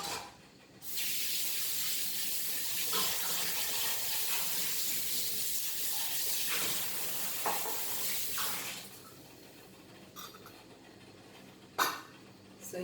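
Marinated tandoori quail sizzling in a normal frying pan, a loud steady hiss that holds for several seconds, then drops to softer crackles with a few brief pops, close up.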